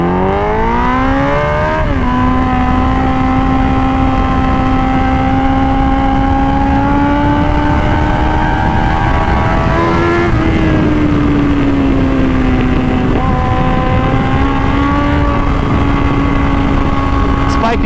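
A 2005 Suzuki GSX-R1000 K5 superbike at speed, its engine droning steadily and loudly throughout with shifting pitch, a brief dip near the middle, under strong wind rush.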